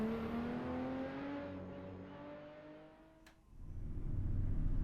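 A Ferrari F12 TRS engine hums steadily with rising harmonic tones as it accelerates, fading to a dip before a deeper rumble swells back, close and continuous with no talk.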